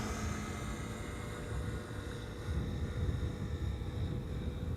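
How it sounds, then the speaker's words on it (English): An Air Canada passenger jet arriving on the Polderbaan runway at Schiphol, a faint, steady distant engine drone that swells slightly partway through. "First up, Air Canada Flight 900 arriving from Montreal, Canada."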